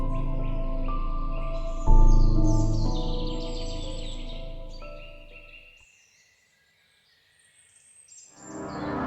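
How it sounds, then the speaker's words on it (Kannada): Bird calls ring through a forest, a dense layered mix of chirps and tonal cries with a low hum beneath that fades into near silence before the calls swell again. "ಲೋ ನಾವು ಕಾಡಲ್ಲಿದ್ದೀವಿ, ಯಾವುದೋ ಪಕ್ಷಿ ಸೌಂಡ್ ಆಗಿರಬೇಕು"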